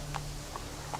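Hooves of Roach, the horse in The Witcher 3, clip-clopping in three soft, evenly spaced steps over a steady low hum.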